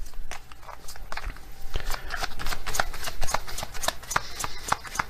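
Oracle cards being shuffled by hand up close, a rapid run of crisp riffling flicks and slaps with brief pauses between bursts, alone without talk.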